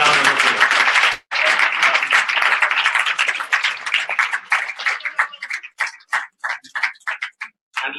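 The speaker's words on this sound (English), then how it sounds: "Give him a round of applause" Audience at a UDP party congress in Crawley applauds a newly named treasurer: dense clapping that breaks off briefly, resumes, then thins into scattered individual claps before fading.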